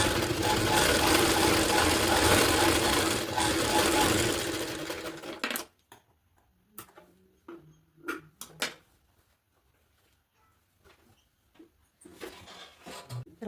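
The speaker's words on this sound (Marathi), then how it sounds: "आता हे आपल्याला या पद्धतीने टिपा मारून घ्यायची आहे" A domestic sewing machine stitches a small girl's blouse, running in a loud continuous whir for about five seconds, then stopping into quiet handling clicks, short mechanical bursts and faint rustling.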